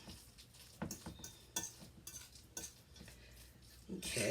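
A spoon scrapes and clinks through a bowl of moist meatloaf mixture with Cheerios, giving quiet, irregular stirring knocks and scrapes up close, with a louder burst of rustling at the end.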